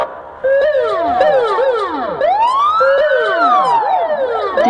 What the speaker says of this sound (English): This is an American fire truck.